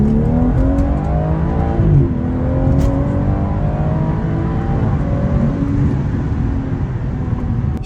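A BMW with a stage 2 tune pulls hard through the gears, engine note climbing in rising sweeps with a brief dip at each shift, loud and close from inside the car on an early-morning road.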